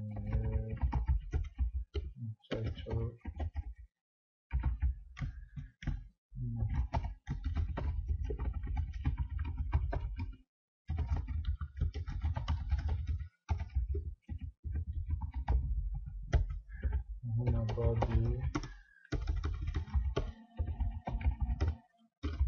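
Typing on a computer keyboard while entering PHP code into Notepad, a dense run of quiet clicking keystrokes in bursts with brief pauses between them, close and alone.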